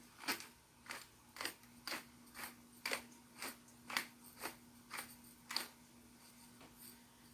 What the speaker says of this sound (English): Got my pepper mill loaded.